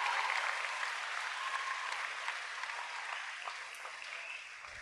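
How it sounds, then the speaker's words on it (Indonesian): An audience at a school Pancasila performance applauds the performers, coaches and organisers with steady, full clapping from a large crowd, sustained for several seconds and easing slightly toward the end. "Mari kita beri tepuk tangan yang meriah untuk seluruh pengisi acara, guru pelatih, dan panitia penyelenggara."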